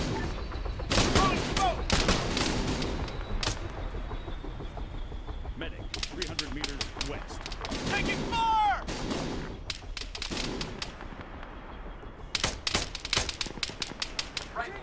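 Gunfire crackles in the military game ArmA 3 against an armed APC, arriving in rapid bursts of automatic fire with pauses between volleys, near and sharp, while voices speak faintly under the shooting.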